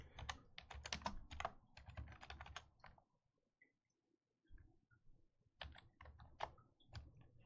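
Bursts of rapid clicking from typing on a computer keyboard, close and distinct, two flurries separated by a quiet pause with a few scattered soft clicks.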